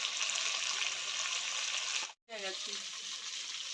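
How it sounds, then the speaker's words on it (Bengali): Boiled potatoes frying in a pan with salt added, a steady hissing sizzle that briefly cuts out mid-clip before resuming, faint and close, with no speech. "এবারে নুন দিলাম আলু ভাজাতে"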